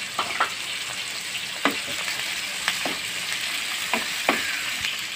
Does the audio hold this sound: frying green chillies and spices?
yes